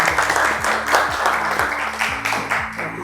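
Classroom of students clapping their hands together, a steady crackling applause under sustained background music or tones, fairly close and continuous throughout.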